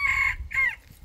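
Chickens and a rooster near their coop give two short, bright, tonal calls in close succession, close by, over a low rumbling background.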